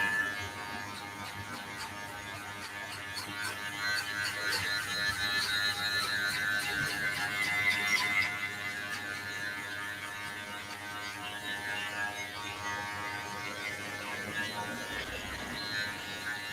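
Electric hair clippers with a clipper guard fitted cut hair with a steady close buzzing hum that holds even for the whole stretch, with faint scratchy texture as the blades pass through.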